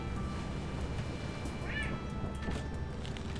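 Cat meowing in the video game Lethal Company, a short high-pitched meow cutting in briefly over a steady bed of noisy game sound.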